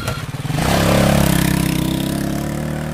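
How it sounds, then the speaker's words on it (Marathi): A two-wheeler's engine growls closer at speed over red dirt, rising from a rough putter into a loud, sustained drone as it rushes past, then trailing off slightly. "इंजिनचा घरघर आवाज जवळजवळ येत हवेच्या वेगाने टू व्हीलरची 2 चाक त्या विंचवाजवळून लाल माती हवेत उडवत पुढे निघून गेली"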